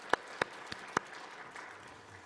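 A church congregation at a Sunday worship service claps, a few sharp, distinct claps ringing out in the room before trailing off into quiet, with no voices.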